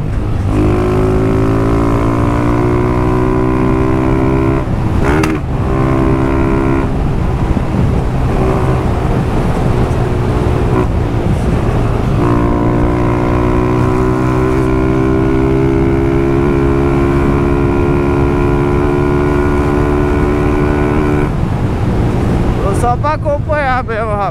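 A Honda Start 160 motorcycle engine revs while riding, rising and falling in pitch through gear changes, loud and close under heavy wind buffeting on the microphone.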